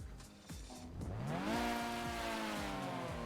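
A car engine in a video game starts up and revs, rising in pitch to a loud steady drone with layered harmonics, close and sustained.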